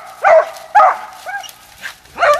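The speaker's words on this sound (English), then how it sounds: "That's Goldie, about a 10-month-old pup out of Scout." A 10-month-old pup barks outdoors, several sharp yips and barks spaced about half a second apart, loud and close, with softer whining sounds in between.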